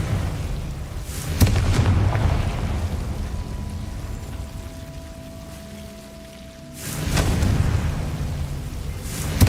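Confringo blasting spell detonating in a Harry Potter video game, a loud rumbling whoosh of an explosion that swells, dies away, then erupts again near the end.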